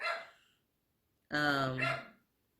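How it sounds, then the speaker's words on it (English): A dog barks indoors in a home studio: a short bark, a pause, then a longer, louder burst of two or three close barks. "What is going on with that dog?"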